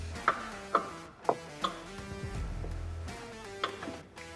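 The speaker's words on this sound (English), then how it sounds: "Now what we're gonna do is take a ratchet strap," A ratchet strap wrapped around a Polaris RZR cage is cranked tight, sharp clicking ratchet pawl snaps repeating at a steady pace up close, with a low clunk of the strap partway through.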